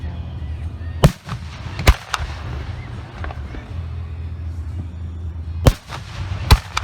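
Professional specialty firework shells burst during a Richmond, Missouri display, giving several sharp, loud booms spread over a few seconds against a rumbling outdoor background.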